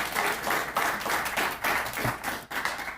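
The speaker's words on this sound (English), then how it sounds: "let's give him a rousing applause, a big welcome, Mayor Ron Nierenberg." Audience in a city building applauding the mayor at a Thanksgiving event, steady clapping from a modest crowd heard from a distance, rising and dipping slightly over a few seconds.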